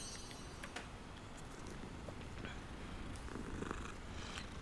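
A cat in the video game Hogwarts Legacy purrs softly and steadily, low and faint, with no talk over it.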